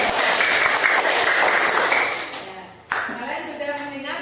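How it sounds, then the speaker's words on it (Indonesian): A classroom full of students claps briskly for about two seconds, the applause fading out before a voice starts talking nearby. "tepuk tangan untuk kelompok 1"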